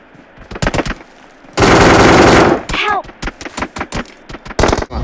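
Gunfire in the video game BGMI: rapid bursts of loud, close shots, including one sustained automatic volley, with shell-like metallic pings between the shots.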